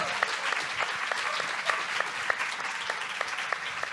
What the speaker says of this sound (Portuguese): Grande Juliana, palmas para Juliana.